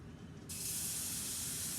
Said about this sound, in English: Ooh, that's sizzling.